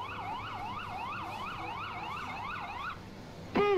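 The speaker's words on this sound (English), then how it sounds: "There goes the ambulance." Ambulance siren from the Emergency 4 Lockport mod video game wails in a steady rising-and-falling sweep for about three seconds, loud and close, then cuts off before a brief sharp whoop at the end.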